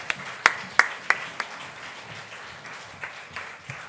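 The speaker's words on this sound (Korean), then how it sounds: "우리 목사님 나오실 때 우리 웰컴하며 박수로 환영하도록 그렇게 하겠습니다." Scattered hand claps sound in a church as the congregation welcomes the pastor: a few crisp, separate claps at first, then thinning into faint, sparse clapping.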